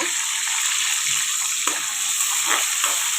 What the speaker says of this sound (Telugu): ఎండు చేప ముక్కలు వేగుతున్నాయి